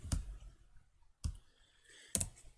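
Three sharp, isolated computer mouse clicks, including a quick double-click, during work in FreeCAD. They are close and crisp against a quiet background, with no talking.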